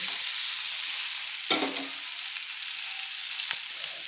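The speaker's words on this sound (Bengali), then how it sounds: "দেখুন আমার পেঁপে আলু মশলার সঙ্গে সুন্দর করে আমার কষানো হয়ে গেছে।" Papaya and potato fry with spices in oil, a close, steady hissing sizzle with a single scrape of a spoon partway through and a fainter stir near the end.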